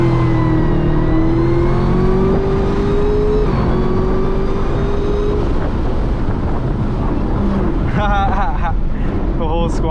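Chevrolet Camaro ZL1 V8 roars under hard acceleration after a downshift, a loud rising engine drone heard from inside the car with wind noise, while someone speaks briefly over it.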